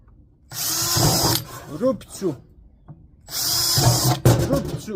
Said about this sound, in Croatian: Sad uzmemo lijepo ovdje mašinu, probijemo jednu rupicu